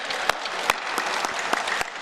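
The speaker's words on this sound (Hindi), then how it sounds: "श्रुति के लिए जोरदार ताली बजा दो।" An audience claps enthusiastically for Shruti at a yoga session, brisk dense applause with a few sharp, louder individual claps standing out near the listener.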